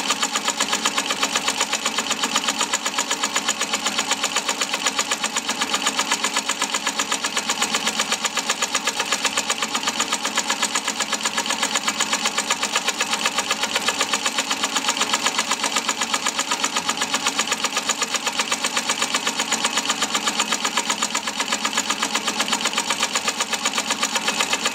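A sewing machine runs steadily while stitching straight quilting lines up and down along a boomerang ruler, a loud, continuous motor hum and rapid needle chatter with no pauses and no talking.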